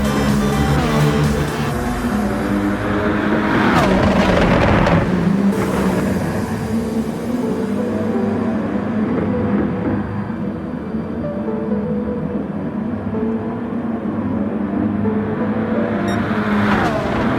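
Race car engines roar in Gran Turismo Sport, loud and sustained, with revving pitch shifts and a car sweeping past early on before a steady drone continues alone.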